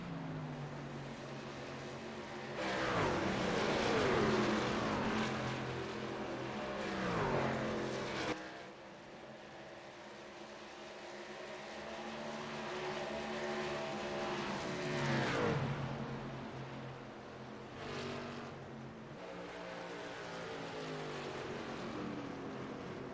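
Race cars on a racing circuit roar past, one after another, each swelling and fading as it passes, with a quieter stretch of distant engine drone between them and no talk.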